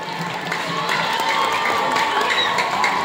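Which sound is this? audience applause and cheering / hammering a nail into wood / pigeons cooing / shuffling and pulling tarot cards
audience applause and cheering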